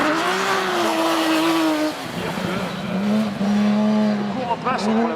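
Trophée Andros race cars running wheel to wheel on an Andorra ice circuit, engines droning loudly and continuously with rising and falling revs, a commentator speaking over them.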